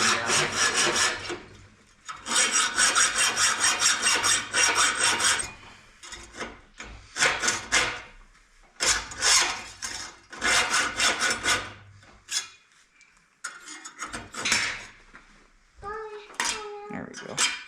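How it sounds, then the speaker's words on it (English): Hand hacksaw cutting through a steel wrench in a home workshop, with steady back-and-forth rasping strokes in long loud runs, pausing briefly between bursts, and a voice speaking near the end. "I have to get a hacksaw."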